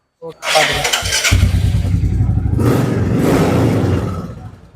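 A second-hand Royal Enfield Bullet motorcycle starts up at a bike market in Chennai and settles into a loud, steady close-up idle while people talk over it.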